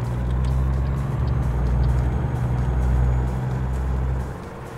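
A truck engine in American Truck Simulator drones steadily and loudly with a deep, even rumble while driving, easing slightly near the end, with no talk over it.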